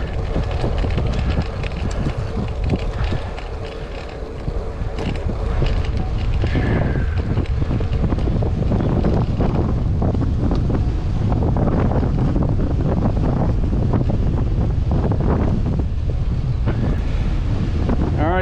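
Strong, constant wind roars and buffets the microphone throughout, a heavy rumbling rush with no break, like gusts off open water.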